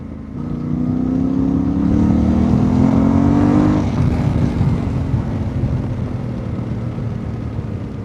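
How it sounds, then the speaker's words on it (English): A Yamaha Tenere World Raid's CP2 parallel-twin motorcycle engine revs hard and climbs in pitch, then drops back to a throaty idle rumble, loud and close with no voices. "That CP2 engine sound is just phenomenal though."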